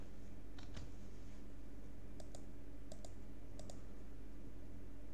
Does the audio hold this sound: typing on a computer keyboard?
yes